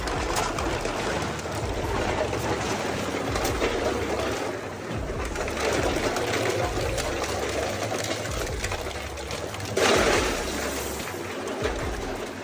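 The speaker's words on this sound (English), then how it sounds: "What makes this shredder efficient is blade geometry." Industrial dual-shaft shredder with offset cutters grinding scrap, a dense, steady mechanical roar with rattling and clattering throughout and a brief louder surge near the end, no voices.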